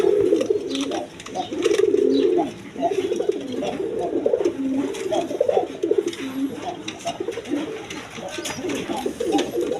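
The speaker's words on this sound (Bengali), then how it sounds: "এইখানে এক পেয়ার গররা কবুতর আছে দেখেন" Satin pigeons cooing close by, a run of soft, throaty rolling calls repeating one after another over a faint background.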